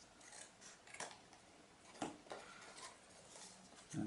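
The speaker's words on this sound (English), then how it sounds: "So I'm just going to trim that bit off" Paper or card being trimmed with scissors from a homemade spaceship craft model: a few faint, quiet snips spaced out over a soft background, with a slightly louder rustle at the end.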